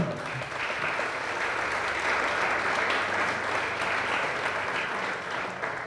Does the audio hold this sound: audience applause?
yes